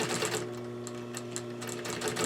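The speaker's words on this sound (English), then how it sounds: "when you're sewing, it's a good thing to let the machine sort of pull the piece through" A sewing machine stitches slipcover fabric for a Parson's chair, giving a close, steady, rapid mechanical whir with fast regular clicking and no talk.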